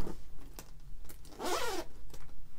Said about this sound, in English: So now I'm opening the second zipper.